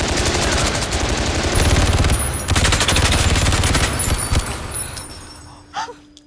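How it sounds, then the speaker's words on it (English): Dense machine gun fire from a Purge movie rattles in long rapid bursts, loud and close, then breaks off and trails into quieter debris and scattered sounds. "a machine gun toting waiter takes it away"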